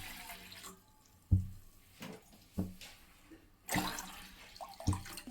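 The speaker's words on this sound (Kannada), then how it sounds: "ನಾನು ಈ ಗ್ಲಾಸಲ್ಲಿ 2 ಗ್ಲಾಸ್ ನೀರು ಹಾಕ್ತಾ ಇದ್ದೀನಿ" Water sloshes and splashes into a pot on the stove as two glasses are poured in for ragi mudde, in a handful of separate wet bursts with quiet gaps between them.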